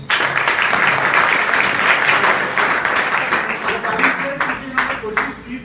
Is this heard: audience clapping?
yes